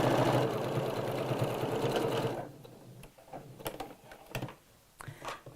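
A sewing machine stitches fabric for a sewing room accessory project, running in a loud steady burr for about two seconds, then stopping and leaving only faint scattered handling clicks and taps.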